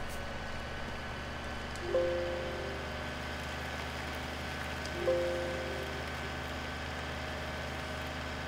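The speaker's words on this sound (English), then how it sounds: "It just went from snow to rain." Rain falls in a single-player farming simulation game as a steady, soft hiss, broken by two brief tonal chimes a few seconds apart.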